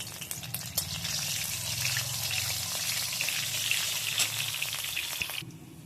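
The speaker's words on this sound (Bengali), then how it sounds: "ফোড়নের জন্য দিয়ে দেবো গোটা জিরে, একটা তেজপাতা," Whole cumin, a bay leaf and green chilies frying in hot oil in a kadai, giving a steady close sizzle that carries on without a break and cuts off near the end.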